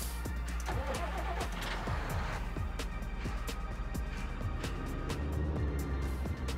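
A tractor in the video game Farming Simulator 19 drives off, its engine a low steady rumble with faint clicks and rattles, moderately quiet and continuous, no talk.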